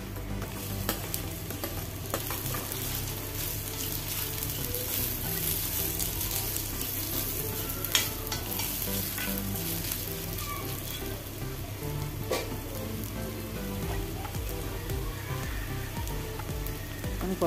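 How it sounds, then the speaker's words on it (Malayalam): Mango and ginger pieces frying in hot sesame oil for a pickle, a continuous soft sizzle with occasional stirring clinks and a low steady hum underneath. "നമുക്ക് മാങ്ങ ഇഞ്ചി ഒന്ന് വാട്ടിയെടുക്കണം"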